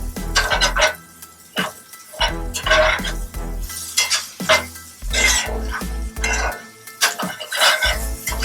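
Eggplant, chicken and vegetables being stirred together in a hot pan, with loud, repeated scraping and clanking of a utensil against the metal and a light sizzle underneath, in irregular bursts.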